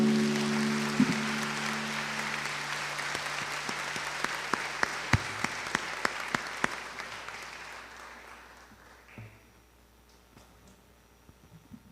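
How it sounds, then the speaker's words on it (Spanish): A church congregation applauds after a Gospel reading, a dense burst of many hands that thins into scattered claps and fades to near silence by the end. "Quiero que por favor le demos un aplauso a la palabra de Dios fuerte"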